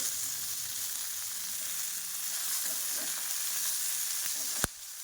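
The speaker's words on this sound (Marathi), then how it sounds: "मिरच्या चांगल्या भाजून घ्यायच्या आहेत" Green chillies roast for thecha in a pan with a steady, even sizzling hiss throughout, close and continuous, ending in one sharp knock near the end.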